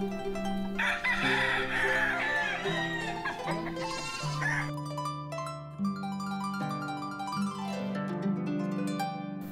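A farm rooster crows loudly and close, a long strained call followed by more crowing, with goats bleating and chickens clucking in the background.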